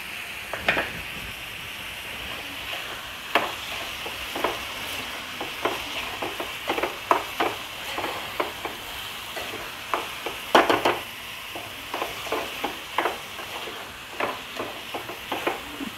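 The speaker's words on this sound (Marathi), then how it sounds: "कांदा, टोमॅटो आणि लसूण तेलामध्ये ना चांगलं मस्त असं फ्राय करून घ्यायचं आहे व्यवस्थित असं।" Onion, tomato and garlic fry in oil in a pan for a squid masala, giving a steady sizzle under frequent scraping and stirring taps of a spoon at an irregular pace.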